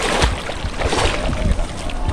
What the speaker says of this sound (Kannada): ನಮ್ಗೆ ಅಲೆ ಬಂತು.